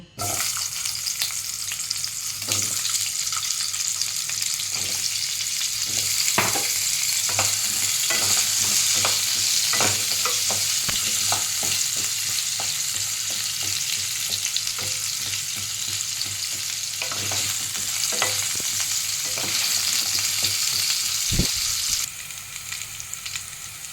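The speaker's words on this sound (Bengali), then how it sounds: "এই একই তেলে আলুগুলোকে আমি ভেজে নেব।" Potatoes fry in the same oil just used for eggplant, giving a steady, loud sizzling hiss throughout, broken by occasional stirring scrapes and clinks near the end.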